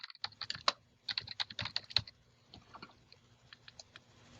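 Light typing on a computer keyboard in a document editor, quick clusters of soft clicks followed by a few sparser taps, fairly quiet with no talking.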